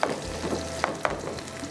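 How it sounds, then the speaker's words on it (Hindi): Onions sizzle as they brown in a pan, a soft steady hiss broken by a few quick utensil scrapes and taps, close up, with no speech. "प्याज को थोड़ा सा ब्राउन करेंगे।"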